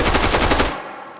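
A machine pistol firing tracer rounds in the VR shooter H3VR: a loud rapid burst of gunfire lasting well over half a second, then cutting off abruptly into a short decaying echo.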